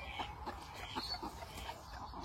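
A rooster passes by at a poultry farm, giving a few soft, faint clucks in quick succession against a quiet background.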